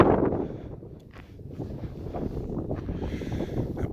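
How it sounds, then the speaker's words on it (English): Strong wind buffets the microphone on Mount Elbert, Colorado, in rough, uneven gusts, a low roaring rumble that swells and dips with no voices. "But it is very windy"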